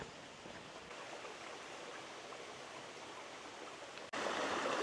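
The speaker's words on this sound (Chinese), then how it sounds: "我可以听到这个长长的流水声啊" Water rushes in a steady, close and continuous stream down a small rural brook on Mount Lushan, heard alone with no voices. The sound gets suddenly louder near the end.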